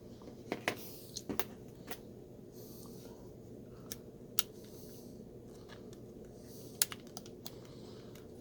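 Sharp plastic and metal clicks as an OLFA blade is snapped into a Fiskars utility knife: several quiet, close clicks scattered over faint background hiss, with no talking.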